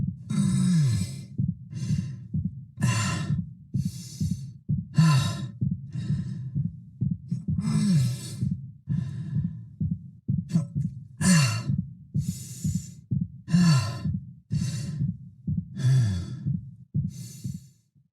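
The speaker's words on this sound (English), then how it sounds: "hearing those injured winces, those fatigued breaths mixed in with his regular breathing actually sounds quite natural" Isaac, the main character in the Dead Space Remake video game, breathes heavily and wearily, with injured winces. Deep sighs and breaths repeat roughly every second, close and alone.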